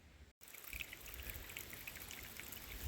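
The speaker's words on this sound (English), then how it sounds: "Pipe in there is water's flowing well." Water flows from a pipe at a trail shelter's water source, a soft, continuous trickle and splash heard close by at low volume, with a brief dropout near the start and no talking.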